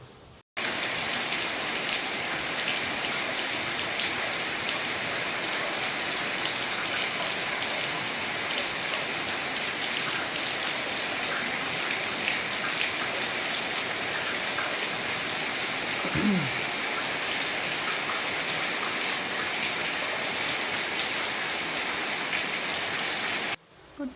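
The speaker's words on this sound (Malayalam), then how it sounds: "എന്തൊരു മഴയാണ് ഇത്, ഭയങ്കര മഴയല്ലേ" Heavy monsoon rain in Kerala pours down steadily, a dense, loud, unbroken hiss of drops hitting surfaces close by, lasting the whole time with no voices.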